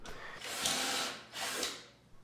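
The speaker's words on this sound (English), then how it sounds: "For all the support pieces, I drill 2 holes in each end of every single part." A power drill bores holes into the ends of wooden support pieces for a DIY hydroponic stand, giving two close, rising whirring bursts with a brief dip between them.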